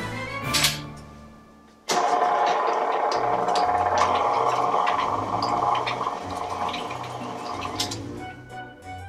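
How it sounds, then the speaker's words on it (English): An electric stand mixer beats pumpkin spice cookie dough, starting with a sudden whirr after a brief clatter, then a steady motor whine with rhythmic thumping of the beaters against the bowl before stopping. "we are going to mix this until well combined"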